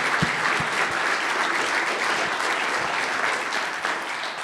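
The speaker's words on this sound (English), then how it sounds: "So please give me a round of applause for them." A conference crowd gives the speakers a loud, sustained round of applause, full and even from start to finish with no voices over it.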